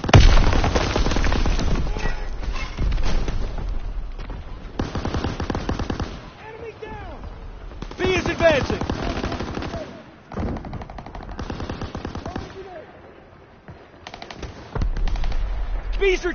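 Bursts of automatic rifle fire and heavy booms from the World War II shooter Call of Duty: WWII come in loud, dense volleys separated by brief lulls, with explosions and ricochets mixed among the shots.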